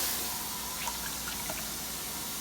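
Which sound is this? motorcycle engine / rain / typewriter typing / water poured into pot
water poured into pot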